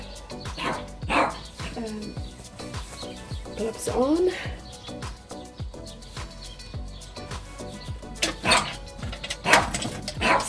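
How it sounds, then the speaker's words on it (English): Dogs bark repeatedly in the background near an outdoor barbecue grill and smoker. Someone talks over the barks and sporadic clattering. "Okay, dogs are barking."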